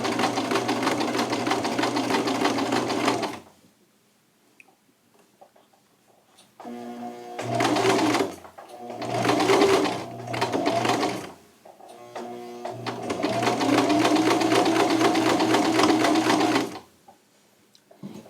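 A sewing machine stitches shirt fabric along a guide in several bursts of steady, rapid mechanical chatter, separated by short pauses of near silence.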